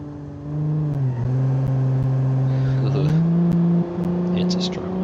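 A car engine in a driving video game strains uphill with a steady, droning hum that shifts pitch as it climbs, loud and continuous.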